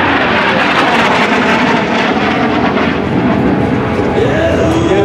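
A Sea Harrier jet roars loud and continuous at the Langley AFB airshow, a broad steady engine rumble with a brief rising whine near the end and faint announcer talk underneath.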